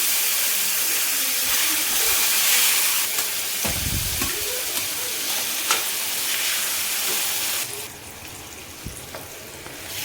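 Eggplant and cucumber chutney is stirred in a hot pan, a steady bright sizzle and hiss running throughout with scraping stirs and soft clunks, close and fairly loud, with no speech.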